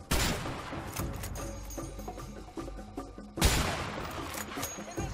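Gunfire from the video game A Way Out: dense, loud volleys of shots with booming impacts run almost continuously, with a heavy burst partway through.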